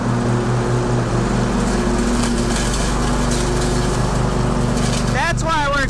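A lawn mower engine runs steadily at close range, loud and constant, with a brief voice near the end.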